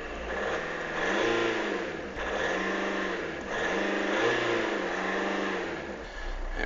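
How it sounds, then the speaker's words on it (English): A cold VW Passat TDi diesel engine is revved gently three times in a row, each rise and fall smooth and close, over a steady idle with no talking. "Engine's still cold, so I don't want to rev it too hard"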